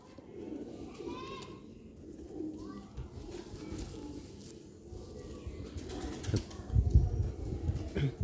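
Soft, repeated cooing of Sialkoti pigeons in a quiet outdoor setting after rain, with faint rustling and a few low thumps growing louder toward the end.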